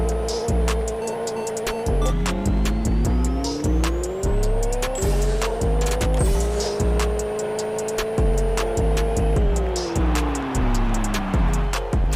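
Car racing in the Pixel Car Racer video game: a loud, continuous synthetic engine drone that climbs and drops in pitch through gear shifts, with a steady clicking pulse and bursts of tire squeal.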